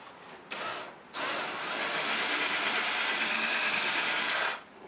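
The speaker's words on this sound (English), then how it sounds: "So let's drill one hole first and we'll see if it's the right size." A power drill bores a hole into a wall to mount a coat rack: a short burst of whirring, a brief pause, then a steady, loud grinding drone for about three and a half seconds before it cuts off. No voices.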